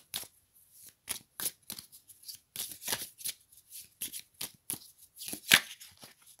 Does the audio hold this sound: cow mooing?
no